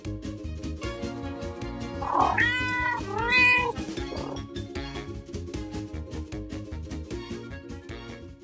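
Cat meows, several drawn-out, high mews and a caterwaul, sound over a bouncy, rhythmic music backing during kids' toy play, close and fairly loud with no talking.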